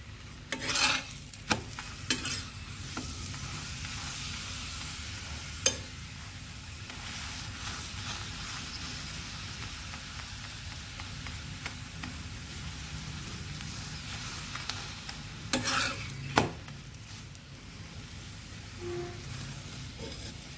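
Radish paratha toasting in a pan and pressed down with a spatula, a continuous sizzle with occasional sharper scraping presses, no talking.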